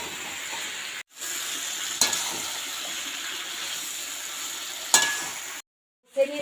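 Fried cauliflower and potato pieces dropped into hot oil and spice masala, giving a steady close sizzle with a couple of clanks and brief cutoffs.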